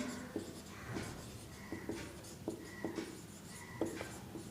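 Chalk or marker strokes on a classroom board during a maths lesson, a series of short scratchy taps and scrapes in uneven rhythm, fairly faint against a steady room hum, with no voice.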